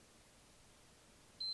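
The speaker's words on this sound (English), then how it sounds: "keep holding it till you hear that second beep, and then let go" A PS5 console gives a single short, clear beep near the end while its power button is held to enter Safe Mode, after a stretch of near silence.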